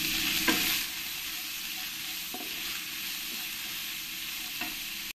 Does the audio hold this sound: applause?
no